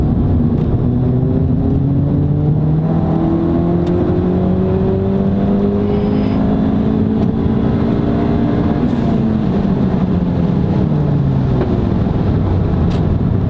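A big-turbo Ford Fiesta ST makes a sustained full-throttle pull, with engine harmonics rising steadily through the gears. The drone is loud and continuous, with brief dips at the shifts and no talking.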